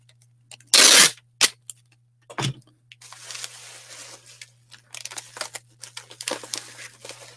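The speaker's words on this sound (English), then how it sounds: "And the rest I'm going to stuff inside the mug as such." Plastic bubble wrap crumpled by hand and stuffed into a mug while packing for shipment, with a loud sharp crinkle burst at first, brief rustles, then a longer stretch of soft close crackling and scrunching with a low steady hum beneath.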